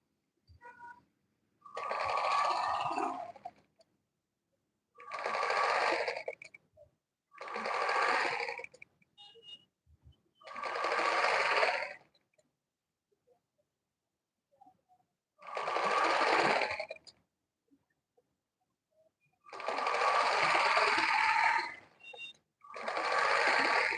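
A sewing machine stitching an Ankara print gown runs in a series of short bursts of a few seconds each, whirring close and clear with quiet pauses between runs.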